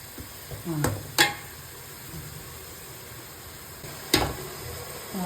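Herb leaves fry in hot oil in a pot for homemade chicken biryani, a steady low sizzle broken by a few sharp stirring clinks and scrapes near the start and again later.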